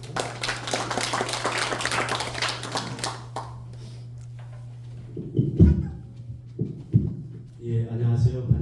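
Brisk applause from an audience at a literary society's 2025 general meeting rings out for about three seconds and then dies away, followed by low hum, thumps and a voice near the microphone.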